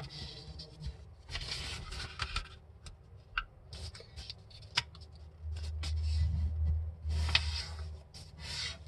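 Sheets of paper folded by hand into a paper airplane, giving close, intermittent rustles and crisp creasing crackles with scattered sharp ticks, alone without talk.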